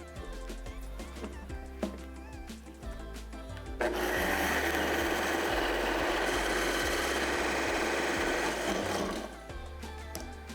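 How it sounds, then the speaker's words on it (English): A blender purees a cup of milk with ground flaxseed and vanilla extract. After some quieter clatter, it roars on loudly and steadily for about five seconds, then shuts off. No voices are heard. "Return your 1 cup of milk back to the blender, along with some ground flaxseed and vanilla extract. Puree to combine."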